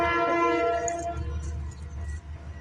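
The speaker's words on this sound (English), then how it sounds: "Damn trains are making noise in the back." A train sounding a loud multi-tone horn that fades after about a second, leaving a low rolling rumble of rail cars in the background.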